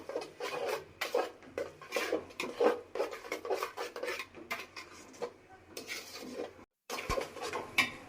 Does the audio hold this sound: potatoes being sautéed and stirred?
yes